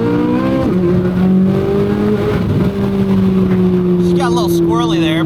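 Chevrolet Corvette C8 Z06 engine heard from inside the car with the windows down, a loud steady drone with a brief shift near the start and rising howls near the end, with a voice briefly over it.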